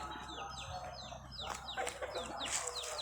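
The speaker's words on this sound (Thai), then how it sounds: "มีไก่ด้วย" Chickens cluck repeatedly nearby, overlapping short calls in an outdoor setting, fairly clear against a soft background.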